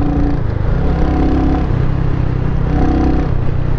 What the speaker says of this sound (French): c'est un bruit d'échappement assez sec